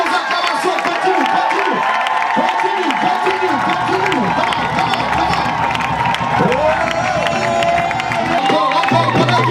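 A church crowd cheers and acclaims a graduating group with shouts, whoops and clapping, loud and continuous, with voices rising and falling over music and babble.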